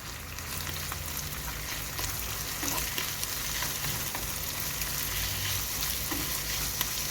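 Tomato drops into a hot pan of frying minced meat for karnıyarık, stuffed eggplant, giving a steady broad sizzle with occasional soft stirring knocks; no voices are heard.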